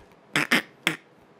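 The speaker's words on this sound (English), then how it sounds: "That's what item ducks sound like in real life" Three short nasal quacks of item ducks in the Minecraft video game sound close and clear, two in quick succession and one after a brief pause, alone against near silence.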